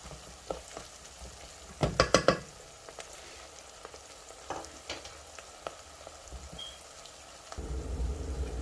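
Onions fry in a pan with a soft, steady sizzle. A brief cluster of stirring scrapes breaks in early, scattered clicks follow, and the frying grows louder near the end.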